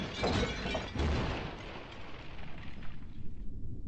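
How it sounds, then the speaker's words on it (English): A loud crash of a brick tower collapsing, a burst of breaking and tumbling bricks and debris that rumbles and slowly fades out. "As the tower crashed to the ground, bricks and dust exploded everywhere."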